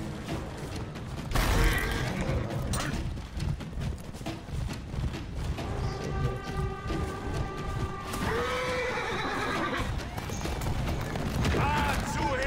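Horse neighs and clip-clopping hooves in the video game For Honor, heard amid a busy battle mix of clashing and mechanical noises, with someone talking over much of it.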